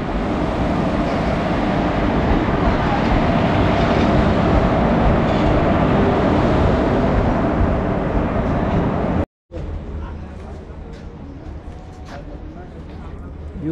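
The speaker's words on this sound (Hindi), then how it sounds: "अपनी ट्रेन आ गई" A train pulling into a station, a loud continuous rumble and rolling clatter of wheels close by, followed after a short cut by quieter ambient noise.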